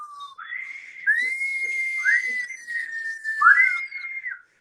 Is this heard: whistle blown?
yes